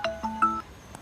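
A mobile phone rings with an incoming call, a short electronic ringtone of a few bright tonal notes in quick succession, heard clearly with no talking over it.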